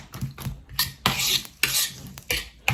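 A utensil stirs a beef egg foo young mixture in a pan, making a series of close, irregular scraping and clanking strokes against the metal, with a faint sizzle between them and no talking.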